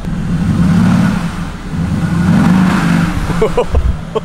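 A car engine revs twice in loud, close swells of throaty roar, each rising then easing off, followed by a few knocks and clicks.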